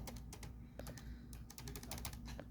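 Fingers tap keys on an HP 2000 notebook keyboard with one sticky key, a quiet, uneven run of plastic clicks in quick bursts at close range.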